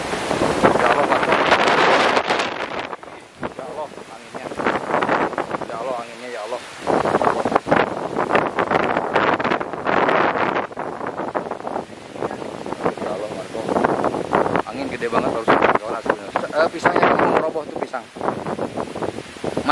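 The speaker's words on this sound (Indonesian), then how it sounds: "Bahaya nih angin. Ya. Supaya nggak dingin. Bukan, angin ini gede." Strong outdoor wind in a valley of rice fields, gusting in heavy buffeting surges that batter the microphone, rising and falling in loud waves while people talk over it.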